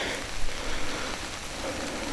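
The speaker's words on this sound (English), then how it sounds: "This rain started." Rain falls steadily in the Oregon mountains, a dense, even hiss of drops on foliage and ground that stays close and continuous throughout.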